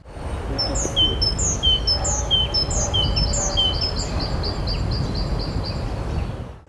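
Birds sing in a spring forest or park during nesting season, a steady run of high, bright chirps and repeated whistled notes over a broad, constant background hiss, with no voices.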